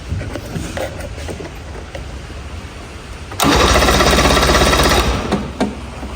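A small outboard motor on a Jon boat sputters and then catches partway through, settling into a loud, steady running drone with no talk over it.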